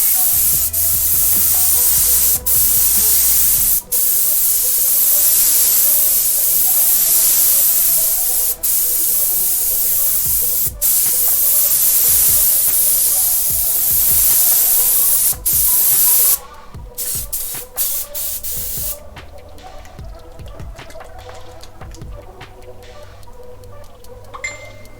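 Airbrush hissing paint onto a fabric shirt in long continuous bursts, loud and close, with short pauses between passes and a steady broadband spray that drops to quieter rustling near the end.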